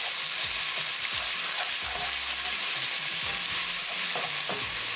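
Ginger, garlic and green chili paste fries in a pan, a steady broad sizzle with repeated scraping strokes of a stirring spoon throughout, close and alone with no talking.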